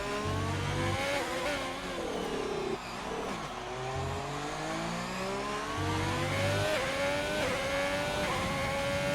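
Formula 1 car in a racing video game at Abu Dhabi, engine screaming and revving with rising pitch sweeps broken by quick gear shifts, including a downshift and rapid upshifts, loud and continuous with no talk.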